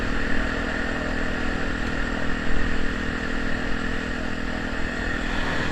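A Honda Tornado motorcycle fitted with a Protork exhaust runs with a steady, loud, rough engine drone that holds an even level throughout, with no voices.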